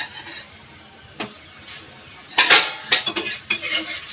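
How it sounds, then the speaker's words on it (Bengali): A paratha being flipped and oiled in a hot pan, heard as sharp metallic clinks and scrapes of a utensil against the pan with a faint sizzle between, close and intermittent. "এই পিঠটা আমি উল্টে দিই, এই পিঠে তেল দিয়ে দিই।"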